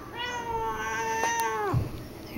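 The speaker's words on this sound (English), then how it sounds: "There's my cat." A house cat giving one long, drawn-out meow that rises and then falls away, heard alone over faint room noise.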